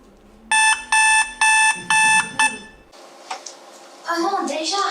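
An alarm clock rings in about five bright, evenly spaced bursts, loud and close, then stops and gives way to quieter room sounds and light movement at a morning wake-up.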